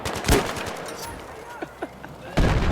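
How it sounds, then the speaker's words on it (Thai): A magnum revolver in Battlefield 3 fires two loud, close shots a couple of seconds apart, with quieter game noise and faint distant pops between them. "ควักออกมาเป็น แม็กนัมดูนะครับดูช็อตนี้ให้ดี"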